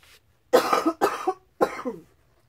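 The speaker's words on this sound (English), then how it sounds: "these books are making me cough worse" Three harsh, close coughs in quick succession, each a short burst with a rough tail, separated by brief pauses.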